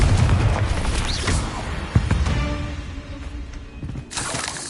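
Blasting-spell explosion in the Hogwarts Legacy video game, a dense rumbling boom with a sharp crack near two seconds, then a decaying roar and a second surge of noisy impact near the end.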